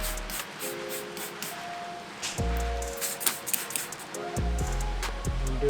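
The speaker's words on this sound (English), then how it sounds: "Then we're going to spray this with alcohol." Alcohol sprayed from a spray bottle during a Tesla mirror wrap, a series of short hissing bursts in quick succession, close and fairly faint, with low thumps and handling noises in between.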